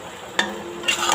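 Okra bhaji stir-fried in oil gives a brief close scrape of stirring over a soft, continuous sizzle.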